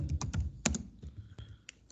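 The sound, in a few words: typing on a computer keyboard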